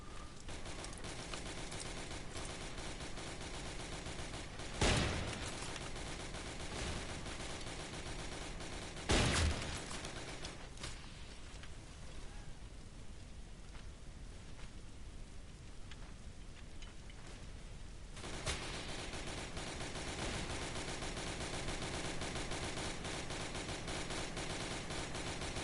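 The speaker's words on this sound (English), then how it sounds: "Well, firing wildly is fine." Gunfire in a Roblox multiplayer game: a steady, dense rattle of fire runs through the whole stretch, broken by two louder bursts and a quieter lull before the heavy fire returns.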